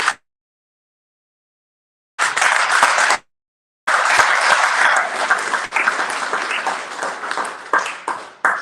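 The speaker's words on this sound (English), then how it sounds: "So can we clap for Fortabe University?" Audience applause at a parents' education seminar in Cameroon: a short loud burst, a brief pause, then a longer sustained round of clapping that gradually thins out, with no talking over it.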